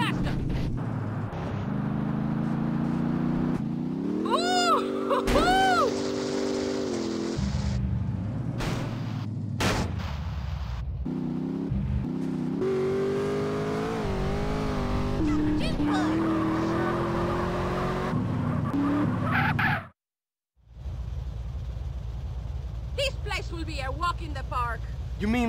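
A car speeds through streets in GTA San Andreas, engine roaring and revving with tire noise and gunfire mixed in, while voices talk over the driving throughout and one short silent gap interrupts it.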